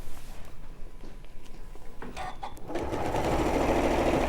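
Sewing machine top stitching along a seam, starting with a few brief stuttering bursts and then settling into a loud, continuous close-up running hum.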